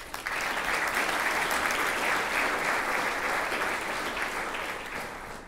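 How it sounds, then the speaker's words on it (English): A breakfast audience applauds its table sponsors with steady, even clapping from a large crowd, holding at a constant level throughout before easing off slightly at the close. "one more round of applause for that great group of people"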